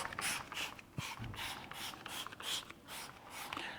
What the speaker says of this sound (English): So I'm just going to spray this on.